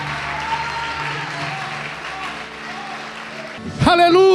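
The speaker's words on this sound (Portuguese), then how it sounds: "pode aplaudir o Senhor, pode adorar a Deus" A church congregation applauds in worship, a steady wash of clapping running under a voice, then a sudden loud sung or shouted phrase cuts in at the end.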